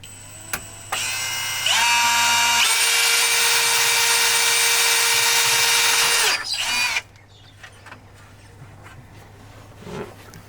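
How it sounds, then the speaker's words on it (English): A power drill bores holes into a caravan, starting with short whirring bursts before a steady, loud, high-pitched drilling run of several seconds, then cutting out to quiet outdoor background. "So we'll get the drill out and we'll drill some holes."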